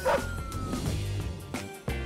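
Hostile dogs barking as a sound effect, several loud close barks and yips in irregular bursts with some whimpering, standing alone without talk.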